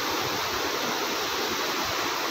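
A steady, dense roar of falling water from the Kamigan waterfall, loud and unbroken, with no voices.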